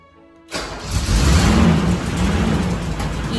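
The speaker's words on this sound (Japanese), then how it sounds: "エンジンをかけてみます。" An old Toyota Crown MS100 engine cranks and fires up after a moment of silence, catching immediately and settling into a loud, steady running rumble close by.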